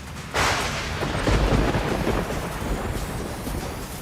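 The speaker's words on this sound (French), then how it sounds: "On est surpris par une grosse pluie d'orage" A heavy thunderstorm downpour roars steadily and loudly, with a deep rumble of thunder rolling underneath, and no voices.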